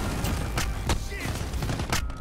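Gunfire in Call of Duty: Modern Warfare survival mode, rapid bursts of shots cracking every fraction of a second, loud and close, over a dense game background with other shots mixed in.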